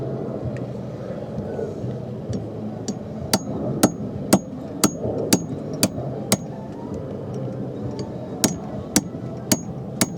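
A hammer strikes a 13 mm socket used as a drift, driving the shaft out of a Volvo MD17C marine engine water pump: a steady run of sharp metallic blows about half a second apart, loud and close over a low rumbling background.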